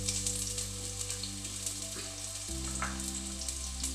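Onion and curry leaves fry in hot oil in a pan, giving a steady, close sizzle that runs throughout with faint crackles and a brief stir partway through.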